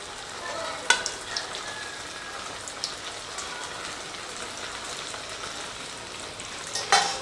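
Chicken lollipop pieces coated in cornflour sizzle steadily in hot oil, a constant crackling hiss with a few sharper pops near the start and end.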